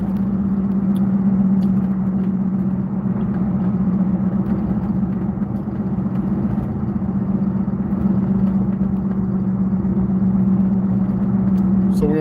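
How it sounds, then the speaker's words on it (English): A truck drives at 30 miles per hour, its engine a steady, loud low drone and road rumble from inside the cab, unbroken throughout. "Doing 30 miles per hour in the truck"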